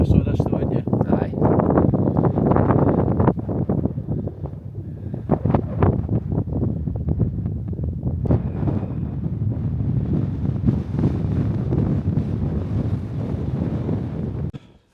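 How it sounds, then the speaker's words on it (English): Strong wind buffets the microphone on top of Conic Hill at sunrise, a loud, continuous roaring rumble with gusting bursts throughout, and a voice faintly audible beneath it. "the wind is really picking up here"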